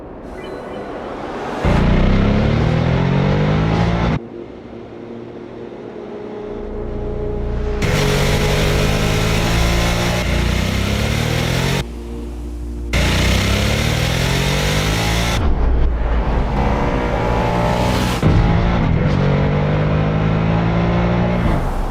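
A Harley-Davidson Nightster motorcycle engine runs loud and close, its throaty rumble rising and falling through repeated revs and gear changes, with a few brief drops between bursts of acceleration.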